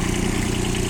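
A Kubota Aste A-13 mini tractor engine idles close by with a smooth, even running rumble, steady and unbroken with no voices.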